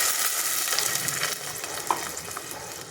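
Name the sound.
sautéing raw Totapuri mango pieces in a pan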